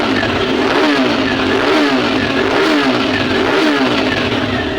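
A TVS Radeon motorcycle engine revving hard after a fuel pump repair, loud and close, with a continuous rising and falling rev throughout.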